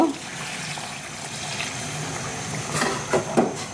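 Water splashes and trickles steadily into a pot of browned beef for curry gravy, with a few louder sloshing bursts near the end; no one speaks.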